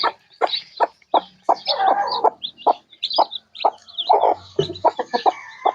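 Free-range hens cluck repeatedly in short, close bursts, several birds overlapping in an irregular chatter with quiet gaps between calls.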